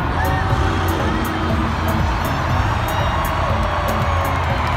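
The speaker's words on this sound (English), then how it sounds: "Wow, the crowd is going wild!" Crowd cheering and whooping at a Monster Jam toy monster truck stunt show during a front two-wheelie stunt, a dense continuous roar of voices with some children's shouts, steady and loud throughout.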